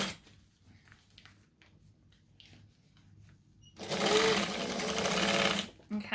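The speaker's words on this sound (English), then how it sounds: "stitch the two pocket pieces together where they do line up." A sewing machine stitching two fabric pocket pieces together runs in a steady, close, loud whirring burst of almost two seconds, after a stretch of quiet handling sounds and soft talk.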